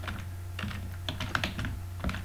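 Code being typed on a computer keyboard while building a Drupal 9 custom module: a steady, close clatter of key presses in quick uneven runs over a low background hum.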